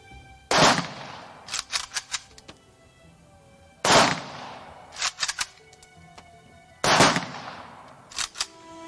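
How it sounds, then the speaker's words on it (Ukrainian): Three loud military rifle volleys ring out a few seconds apart as a funeral salute, each sharp crack followed by echoes and scattered smaller clicks and bangs. "на честь героя прозвучав останній військовий салют"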